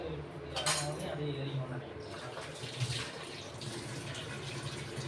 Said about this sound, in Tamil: நல்லா மிக்ஸ் பண்ணிவிட்டு கொஞ்சமாக தண்ணி ஊற்றி